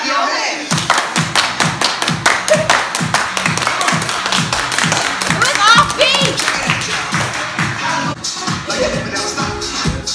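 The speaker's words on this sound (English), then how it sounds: "Everybody, clap your hands." A group of dancers claps their hands in time to a song, producing loud, regular rhythmic claps over steady music for the whole stretch.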